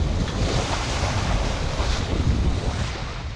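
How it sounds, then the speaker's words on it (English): Wind and surf roar steadily around a sailboat at sea, a loud continuous rush of gusting air and breaking waves buffeting the microphone throughout. "the wind's just come back up"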